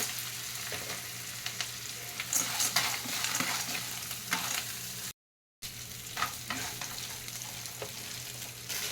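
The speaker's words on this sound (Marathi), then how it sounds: "पूर्ण हे मिक्स करून घ्यायचं आहे त्याच्यामध्ये हा पास्ता घालते" Pasta with salt and coriander gets stirred in a hot pan: a gentle, even sizzle with soft spoon scrapes, cut by a brief silent gap partway through.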